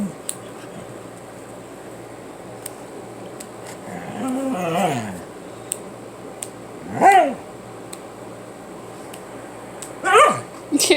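A dog gives a few short yips and whimpering barks at moderate distance, spaced several seconds apart over a faint steady background hum.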